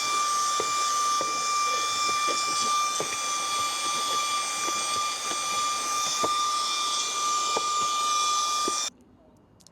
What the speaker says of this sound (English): Let's see if we could get in there and vacuum that out.